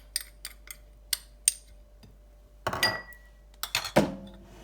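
Spoon clinks against a bowl while salt, Kashmiri red chilli and cumin powder are stirred into raita, a series of sharp scattered taps followed by two busier bursts of scraping and clinking, close and alone.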